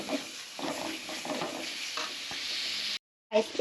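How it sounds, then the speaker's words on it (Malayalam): Ginger, garlic and green chili paste is stirred into fried onions for biryani, giving a close, steady sizzle with scraping stirs, then a brief silence before the frying sound resumes. "നമ്മുടെ ഇഞ്ചി വെളുത്തുള്ളി പച്ചമുളക് പേസ്റ്റ് ആക്കിയിട്ട് നമുക്ക് ഇട്ട് കൊടുക്കാം നന്നായിട്ട് മിക്സ് ചെയ്ത് കൊടുക്കാം"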